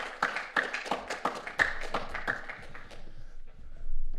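An audience applauds to welcome a speaker at a conference opening session. The clapping is moderate and fairly close, with sharp individual claps standing out, and it thins and fades away after about three seconds.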